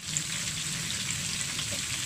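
Crispy fried shrimp sizzling steadily in hot oil in a home kitchen, a constant bright crackling hiss with no pauses and no voices.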